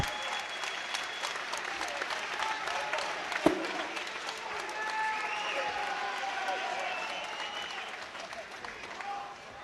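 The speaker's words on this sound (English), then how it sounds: "another round of applause, please, to both fighters for a fantastic performance" Sustained crowd applause after a third-round armbar finish at an OMMAC MMA event, a steady roar of clapping with some cheering carrying through the whole stretch and one sharp thump partway in, with faint talk underneath.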